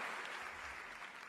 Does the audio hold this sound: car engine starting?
no